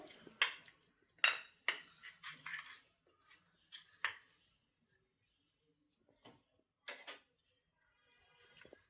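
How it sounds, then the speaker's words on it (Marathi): Spoon working ghee into flour in a bowl, sporadic scraping and clinking strokes in short bursts with quiet pauses between, close and faint. "चमचानेच मिक्स करते सुरुवातीला"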